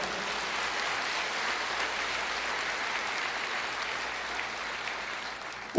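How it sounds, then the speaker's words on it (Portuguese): A church congregation applauds the Lord in one dense, even wash of clapping that holds steady throughout at moderate loudness, with no voices standing out. "você pode aplaudir o Senhor?"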